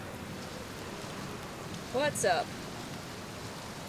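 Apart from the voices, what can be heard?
rain in the video game Outer Wilds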